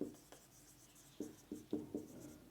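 During a Class 12 physics lesson, chalk or a marker taps and scratches across a board in a few short, separate strokes, fairly faint and close, with a low room hum and no voices.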